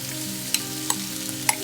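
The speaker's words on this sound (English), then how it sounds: "Now we just stir. So just saute it." Grated carrots frying in a pan for carrot halwa, a steady sizzle with a few light scraping stirs of a spoon against the pan, no talking.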